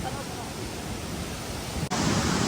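Cool wind and water spray rush at Lava Waterfall, a dense, steady roar of falling water and gusting air close to the microphone, with a brief dip just before the end.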